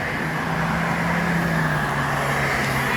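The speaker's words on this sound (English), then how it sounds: "Alright, see a bad water truck here." A Cummins L10-powered water truck engine idles with a steady low rumble and a faint droning hum, continuous and close, with no voices.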